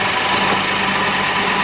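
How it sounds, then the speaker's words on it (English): Acura MDX engine idling with a newly installed alternator, a steady, loud, even running hum with no talk over it. "The car is running, the engine is running"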